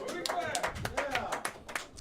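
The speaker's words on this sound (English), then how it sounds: "Clap it up for that" Audience clapping at a comedy show, a small crowd giving sharp, distinct claps in a loose rhythm, fairly close, with a voice talking underneath.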